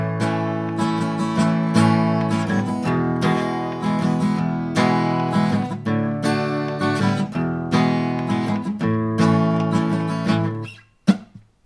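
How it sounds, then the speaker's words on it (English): Acoustic guitar strums the chords of a song aiming for the bass notes, a steady rhythmic pattern of bright, full strums played close and alone before ringing out and stopping. "just try aiming for the bass part of the chord. So that would sound like this."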